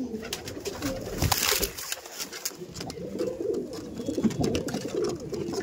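Aggressive Andhra Madrasi pigeons in a loft coo continuously, low throaty calls layered with scattered clicks and flutters close by.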